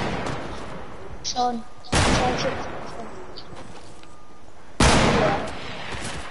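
Gunfire in the video game Fortnite battle royale: a few sharp, loud shots at separate moments, one with a long decaying tail, while players talk over it.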